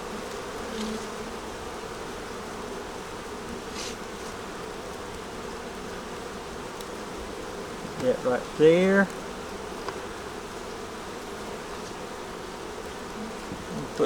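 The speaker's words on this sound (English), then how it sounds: "Put something under it so we don't squish the bees though." Bees buzz around an open hive being fed in cold weather, a soft continuous hum in the background with one brief louder buzz as a bee passes close, while a person speaks briefly.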